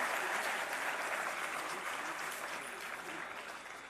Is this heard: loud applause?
yes